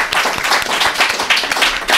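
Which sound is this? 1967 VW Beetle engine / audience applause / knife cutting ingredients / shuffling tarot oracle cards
audience applause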